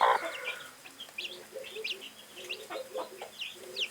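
A brooding hen that has begun hatching her eggs on a Kienyeji poultry farm makes low, repeated clucks with faint chick peeps over it, close and moderately quiet, with no talking.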